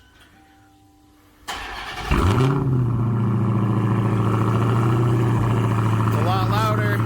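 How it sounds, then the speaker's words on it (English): A Dodge Challenger Hellcat fitted with Dynomax Race Bullet exhaust cold starts: a brief starter whir, then the engine catches with a loud bark and settles into a deep, rumbling high idle, close by, with a voice briefly speaking at the start. "here's the cold start with the new Dynomax race bullets"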